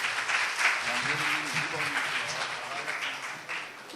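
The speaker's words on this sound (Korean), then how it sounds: "큰 박수 부탁드리겠습니다" Loud, sustained applause from an audience at a Korean talk concert, many hands clapping in a dense continuous wash for about four seconds as guests are called back to the stage, with faint voices underneath.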